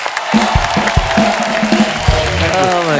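A studio audience at a TV comedy talk show, the Kapil Sharma Show, claps loudly and steadily throughout, with music and voices mixed into the applause.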